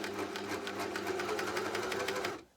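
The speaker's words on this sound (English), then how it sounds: "So we're going to start sewing," A Juki MCS-1500N coverstitch machine sews a hem at a steady, even pace with a rapid mechanical stitching rhythm, running continuously and close by before stopping near the end.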